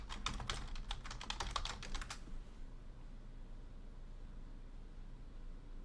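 A computer keyboard clatters with quick, close keystrokes for about two seconds, then stops, leaving only faint room hum.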